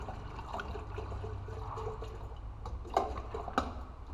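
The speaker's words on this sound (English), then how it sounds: "We put our Cambodian water in here" Water is poured into a Vietnamese coffee filter, a faint, continuous trickle followed by a couple of sharp clinks near the end.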